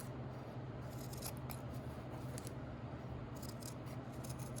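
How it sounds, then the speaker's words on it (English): Scissors snip steadily through excess fabric around a sewn collar, a quiet run of close, crisp cuts with no talking. "Trim off some of the excess here."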